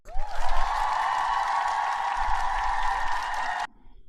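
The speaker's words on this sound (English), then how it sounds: "We do a lot of claps on this show." Studio audience applause on a talk show, a steady wash of clapping that swells in quickly, holds evenly for a few seconds, then cuts off abruptly.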